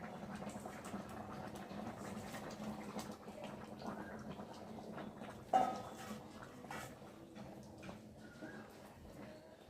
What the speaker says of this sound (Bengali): আমি জল ঢেলে দিয়েছি আর ঝোলটা এখন ফুটে গেছে